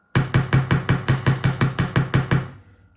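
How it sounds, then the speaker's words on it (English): Rapid, evenly spaced hammer blows ring on wire over a solid bench block, roughly a dozen sharp close strikes before the tapping ends. "at the end of the block, just give it a little bit of a hammer"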